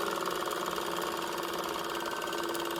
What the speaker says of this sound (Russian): И теперь отстрочу где-то сантиметр от края.